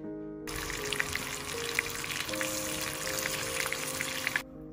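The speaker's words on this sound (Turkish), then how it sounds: "Her tarafı güzelce bulandıktan sonra kızgın yağda kızartıyoruz." Eggplant slices sizzle steadily in hot oil, a close, continuous frying hiss that starts abruptly and cuts off near the end.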